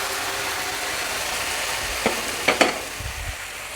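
Potatoes and green peas being stirred into a simmering kurma gravy, a steady soft bubbling hiss with a few sharp spoon scrapes against the pot near the end.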